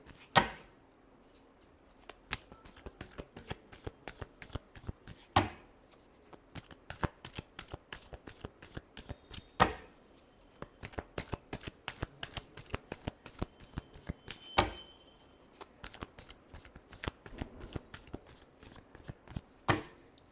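Tarot cards are shuffled by hand in a long run of quick, crisp riffling flutters, close and fairly quiet, with a few sharper taps and slaps between bursts and no talking.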